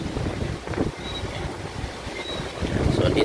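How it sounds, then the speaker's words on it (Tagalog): Strong gusts of Hurricane Fiona on Bermuda roar steadily against the microphone, buffeting and rumbling throughout and swelling toward the end, with no one talking. "Kung naririnig niyo yung ano ng hangin."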